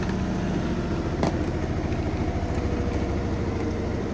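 A washing machine's final spin at 1100 RPM, a steady loud whirring drone with a constant low hum and a brief knock partway through, continuous and close.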